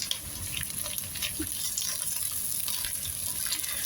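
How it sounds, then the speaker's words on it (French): Pork paupiettes browning with onions in a pan give a steady, close sizzle with a broad hiss and scattered small crackles that run without a break. "Vous venez ajouter vos paupiètes et on va les faire revenir avec les oignons"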